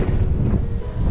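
Strong, warm wind during Storm Kathleen on a beach at Buncrana, County Donegal, buffeting the microphone as a loud, continuous rumbling roar.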